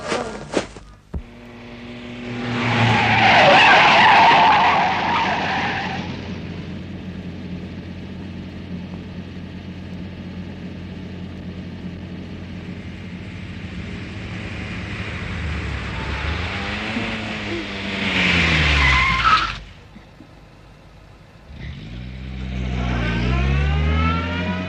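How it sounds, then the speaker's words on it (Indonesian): A car engine approaches and runs steadily at night, rising to a louder passing surge near the end, then a brief drop before the engine noise returns; no talk is heard over it. "Tadinya saya kira mobil Kang Karta yang suka ngajarin setir saya."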